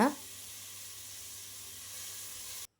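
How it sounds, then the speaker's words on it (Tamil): Banana flower sautéing in hot oil for biryani gives off a steady, even sizzle that holds for a few seconds and then cuts off abruptly. A brief voice is heard at the very start. "இப்போ வாழைப்பூவை அதையும் போட்டு வாழைப்பூவும் வந்து நல்லா எண்ணெயிலேயே வணங்கணுங்க"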